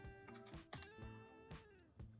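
Keys on a computer keyboard clack in a short, uneven run of soft taps, fairly close and quiet, with a faint steady electronic tone humming underneath.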